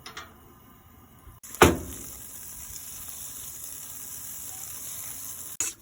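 A slice of butter, about 10 grams, dropped into a hot pan for an omelette, a sudden hiss followed by steady, soft sizzling that carries on quietly with no talking.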